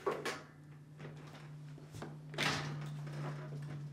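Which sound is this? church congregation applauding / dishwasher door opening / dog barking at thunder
dishwasher door opening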